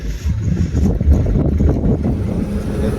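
Strong, cold wind buffets a KSRTC bus during a stop near Arisikere on the Salem to Shimoga route, a loud, steady low rumble with gusty microphone noise throughout and no talk.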